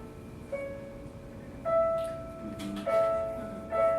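A single instrument plays a few sustained notes in sequence, each tone entering and ringing steadily in a quiet room, with no voices over it.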